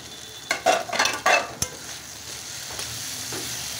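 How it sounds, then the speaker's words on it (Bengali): Potatoes tipped into a pan of fried spice paste for a rohu fish curry with eggplant, then stirred: a few sharp scraping, clattering bursts of spoon against pan, then a soft steady sizzle settles in, with no talking. "মশলাটা কষানো হয়ে গেছে, এবার আলুটা দিয়ে দেবো"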